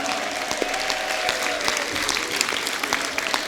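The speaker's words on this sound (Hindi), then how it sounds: "जोरदार तालियां उनके खाते में अंकित हों।" An audience at a Jain Panchkalyanak festival poetry gathering in Palwal gives a guest a round of applause, a dense, steady patter of many hands with a few sharper individual claps standing out and a faint tonal hum running underneath.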